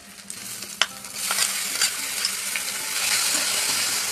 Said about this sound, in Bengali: এরপর কড়াইতে তেল দিয়ে পেঁয়াজ আর রসুনটাকে ফ্রাই করে নিচ্ছিলাম।